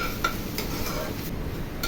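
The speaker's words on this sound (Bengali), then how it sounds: "এখন এই অবস্থায় বারবার করে নেড়ে দিয়ে আমি রান্না করে নেব।" Potato and egg curry being stirred in a pan, with a steady low scraping and clinking of a utensil against metal, soft and continuous for a couple of seconds, no voices.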